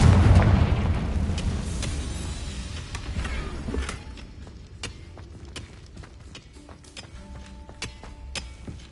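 Confringo blasting spell in Hogwarts Legacy detonating with a loud, deep boom that rumbles and decays, followed by scattered crackling debris and smaller pops trailing off over several seconds.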